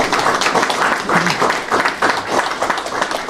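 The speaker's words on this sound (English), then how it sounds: "You can clap for that." Audience applause at a community development grant program announcement, a steady wash of clapping from a crowd that holds fairly loud and even throughout.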